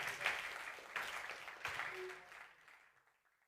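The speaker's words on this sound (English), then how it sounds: "Another hand of applause for that." Annual general meeting audience giving a round of applause, a distant crowd clapping in a couple of swelling waves before fading out.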